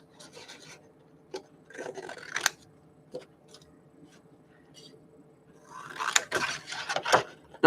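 Scissors snip through paper in short, crisp bursts, a few isolated cuts followed by a quicker cluster of rasping snips close to the microphone.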